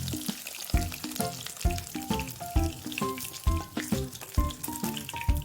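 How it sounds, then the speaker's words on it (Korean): Oil sizzles and crackles steadily as dried pollack fries in a generous amount of oil in a pan, with a few soft clicks and taps of a utensil; no voices. "식용유를 넉넉히 넣고 황태를 넣어줍니다. 앞뒤를 노릇노릇하게 튀기고"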